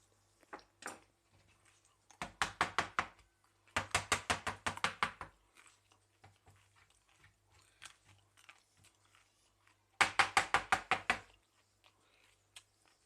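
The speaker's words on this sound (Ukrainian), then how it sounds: "Що я з нею роблю? Я її натираю далі." A peeled carrot being rubbed against an old hand grater in a kitchen, heard as three bursts of fast, rhythmic rasping strokes, close and fairly quiet, separated by pauses with a few light knocks.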